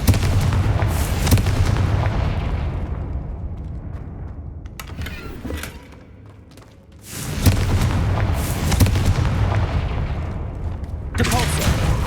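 Blasting-spell explosions boom in Hogwarts Legacy during a trial, heavy rumbling bursts filling most of the stretch with a brief lull midway, then another loud blast, with a voice calling out the spell.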